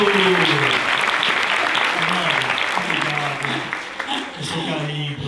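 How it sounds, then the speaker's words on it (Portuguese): A live audience claps steadily and warmly for Fernanda Brito at a talk on professional elegance, with dense, sustained applause. A speaker's voice carries faintly underneath. "Uma salva de palmas a Fernanda Brito!"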